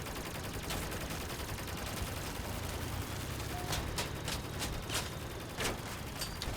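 Energy weapon gunfire in the vehicle combat game Crossout, a dense hiss of rapid fire overlaid with several sharp, bright bursts in the later half, fairly quiet overall.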